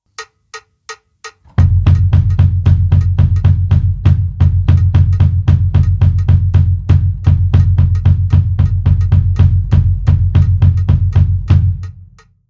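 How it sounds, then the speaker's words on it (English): Kick drum from a one-pedal double-kick pattern with the second note of each pair dropped: a few sparse clicks lead into a long, even, rapid stream of loud, close bass-drum thumps with bright attacks, played without any voices. "Leaving out the second note would look and sound like this."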